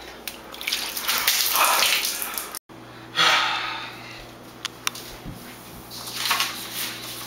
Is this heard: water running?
yes